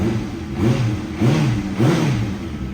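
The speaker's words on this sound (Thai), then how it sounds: "รอบนิ่งๆ ไฟเครื่องไม่มีโชว์นะครับ" A 2014 Honda CBR650F motorcycle fitted with an aftermarket exhaust idles nearby, a deep, steady burble that swells in regular pulses about every half second.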